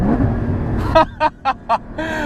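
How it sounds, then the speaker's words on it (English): A Porsche Cayman GT4 uses its automatic rev-match system on downshifts. An engine drone fades, then four sharp, evenly spaced throttle blips bark close by, followed by a renewed engine note. "apparently this is supposed to make me downshift like a pro"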